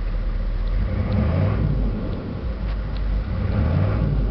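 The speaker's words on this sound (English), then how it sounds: "I'm going to start revving this truck up and down." A 6.5-litre turbo diesel truck engine revs up and down in a steady, rumbling drone, close and alone with no talk.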